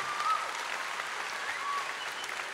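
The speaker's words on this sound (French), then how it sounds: "J'aimerais juste un applaudissement pour tout les candidats de ce soir." Audience applause for the contestants at the finale of a children's singing competition, a steady wash of clapping filling the hall at moderate level, with no voices over it.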